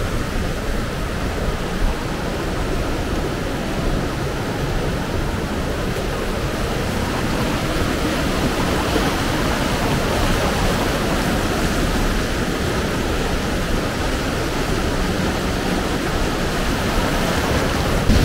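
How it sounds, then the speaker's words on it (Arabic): Spring water of the Blue River source in Travnik, Bosnia, rushes in a constant broadband roar, loud and near, steady from start to finish with no talking. "في منبع النهر الأزرق في هذا النبع في ترافنيك"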